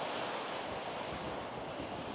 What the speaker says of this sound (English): I can't believe how high these waves are coming up.